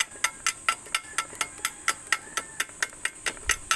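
A hammer chipping slag off a stainless steel weld made with a 2 mm rod at 21 amps, a fast steady run of about fifteen sharp metallic taps, close and loud with no talk.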